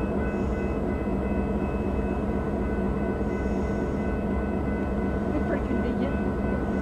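Canadian Pacific train at Rouses Point, a steady rumbling engine drone with a constant mechanical hum, close and unchanging throughout.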